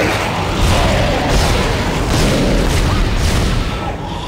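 Dense, loud roar of gunfire and explosions in the sci-fi horror video game Dead Space, a continuous booming wash up close with no clear gaps.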